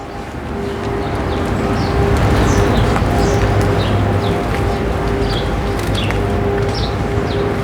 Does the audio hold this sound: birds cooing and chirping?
yes